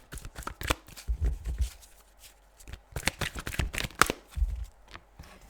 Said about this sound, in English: Do you see how effortlessly these cards are flying out?